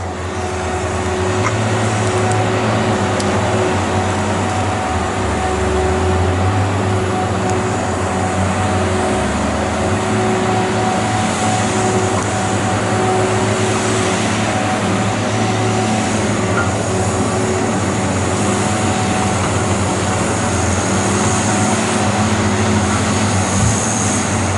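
Tigercat 630E or 635D forestry skidder crawling over a steep, rough, root-covered track on mats, its diesel engine a steady, loud drone with slight shifts in load as the machine climbs.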